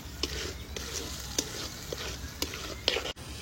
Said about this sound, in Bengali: ভেজে রাখা পনির আর ভেজে রাখা ক্যাপসিকাম আর পেঁয়াজটা, এটা ঠিক মাংস যেভাবে কষানো হয় ওইভাবে আমি ভালো করে মশলার ভিতরে রেখে কষিয়ে নেব